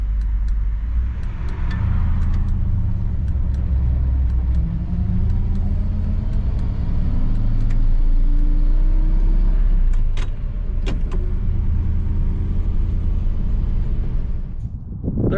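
A 1959 Chevrolet Bel Air with a 348 engine on its first drive of the season, the V8 rumbling steadily under load with gradual acceleration and shifts, loud and close throughout, no talking.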